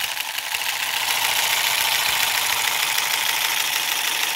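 A 3/4 size zigzag vibrating shuttle sewing machine running at the widest zigzag setting, a steady close mechanical whir with a fast rhythmic clatter throughout, loud and unbroken.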